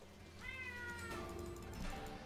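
A cat meows twice in quick succession, a drawn-out tonal cry followed by a second shorter one, fairly close and clear.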